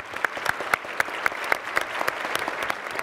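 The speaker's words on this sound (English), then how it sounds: "let's give our panelists a big round of applause" A conference audience applauds panelists on launch providers and propulsion. Scattered clapping is heard at moderate distance, with a few sharp nearby claps standing out in a loose rhythm over the crowd.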